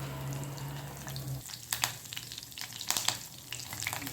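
Cumin seeds and curry leaves crackle in hot oil, a close, soft sizzle with scattered sharp pops and spits after a low steady hum, the frying continuing alone without talk.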